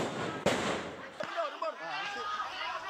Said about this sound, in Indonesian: Serangan petasan ke permukiman warga juga nyaris membakar rumah.